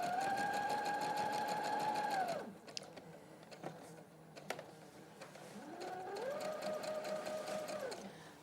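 A sewing machine stitches a seam down a garment piece at a live sewing demonstration, with a steady motor whine for a couple of seconds, a pause with small clicks and handling, then a second continuous stitching run.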